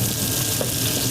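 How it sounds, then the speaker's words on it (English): Burgers sizzling on a griddle top, a close, steady crackling fry with dense popping, continuous and loud with no talk. "These things, I can hear them sizzling."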